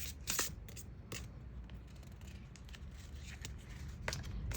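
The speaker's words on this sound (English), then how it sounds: "Actually, let me shuffle." An oracle card deck, the Circles of Healing deck, is shuffled by hand during a card reading, giving soft papery riffles and slides with a few sharper flicks near the start, close and fairly quiet with no talk.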